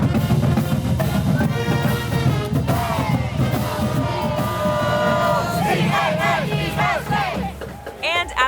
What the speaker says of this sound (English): after a big Canes cheer